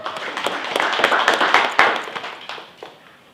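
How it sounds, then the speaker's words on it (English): Scattered clapping from a modest group at a sales meeting, uneven and fairly close, building briefly then thinning out and fading away. "Give Shelley a round of applause."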